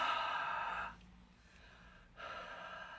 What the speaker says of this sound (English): So a nice heavy breath.